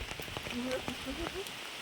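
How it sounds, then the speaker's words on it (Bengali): Heavy torrential monsoon rain pours down in a steady, loud wash of hiss for the whole short stretch, with a voice speaking faintly underneath. "দেখতে পাচ্ছ কি বৃষ্টি, মুষলধারা বৃষ্টি হচ্ছে, মুষলধারা বৃষ্টি যাকে বলে।"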